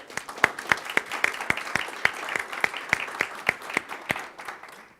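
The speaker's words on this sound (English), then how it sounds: "let's give him an applause." Small workshop audience applauding, a sparse round of individual distinct claps in a quick uneven rhythm, close and clear, with few hands so each clap stands apart.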